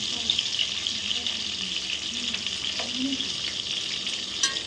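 Cauliflower fries in a pan with a steady hissing sizzle and soft bubbling close by, a faint voice murmuring underneath and a small clink near the end.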